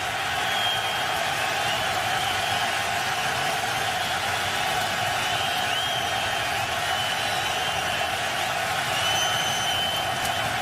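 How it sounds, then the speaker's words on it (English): Loud, steady roar of a rowdy stadium crowd at a Jets vs Patriots NFL football game in New England, a continuous wash of noise filling the whole stretch without breaks. "this crowd is rowdy, it's noisy"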